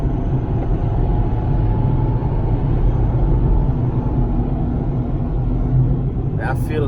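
Ford Ranger cabin while driving with an intermittent engine fault, a steady low rumble of engine and road noise filling the interior, with a brief faint knock or tick near the end.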